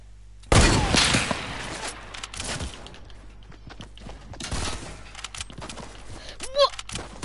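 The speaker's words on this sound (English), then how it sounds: "What a snipe!" Sniper rifle fired in Fortnite: a sharp loud crack with a booming tail at the start, followed by scattered fainter gunshots and game noise, with a voice briefly heard.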